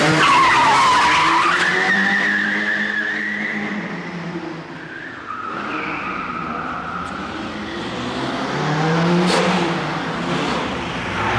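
A car accelerates away with a long, loud tire skid, the engine revving and squealing tires sliding for several seconds, with no voices.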